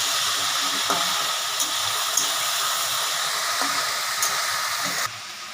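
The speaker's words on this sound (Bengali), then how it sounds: "আচ্ছা তরকারিটা হতে থাকুন ভাজা ভাজা" Onions and vegetables for a curry fry in a pan with a steady, close hiss of sizzling oil, dotted with a few soft pops and stirring clicks. There is no talking.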